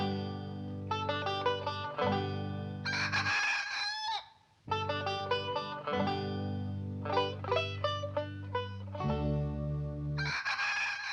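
Earl the rooster crows over and over at daybreak, loud and close, with long ringing calls. Short pauses and a few clucks come between the calls.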